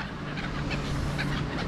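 Black-headed gulls crowd a road, a flock calling in repeated harsh short cries over a steady low rumble of background noise.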